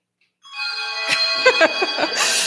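Bronze handbell played with the shake technique at an ensemble concert: a fast, continuous shimmering ring with repeated rapid strikes, loud and close, sustained throughout.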